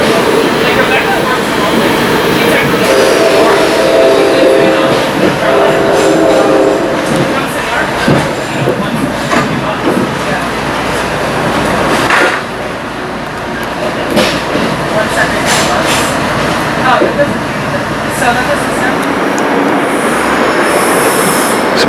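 Loud steady rumble from inside a commuter train riding toward Elizabeth, New Jersey, with continuous rolling wheel noise, faint rattles and a brief squeal, close and unbroken throughout.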